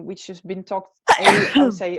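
A single sharp sneeze bursts out in the middle of a podcast conversation, loud and close, right after a man's speech and with talking resuming just after.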